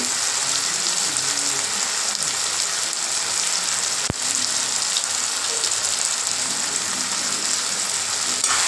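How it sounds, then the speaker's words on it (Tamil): Tomatoes and dried Bombay duck fish sauté in hot oil, giving a steady, dense sizzle that runs unbroken throughout, with one sharp tap near the middle. "இந்த எண்ணெயில் லைட்டாக இந்த தக்காளி கூடிய நல்லா வதங்கட்டும்"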